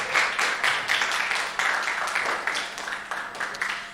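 Audience at a demoparty applauds in a dense wash of clapping, moderately loud and steady for several seconds, with a few voices mixed in.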